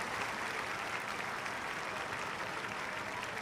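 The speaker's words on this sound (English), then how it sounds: "So applause all round." Steady, dense applause from a large stadium crowd after a J1 League football match between Yokohama FC and Urawa Reds, a continuous broadband wash of clapping heard from a distance throughout.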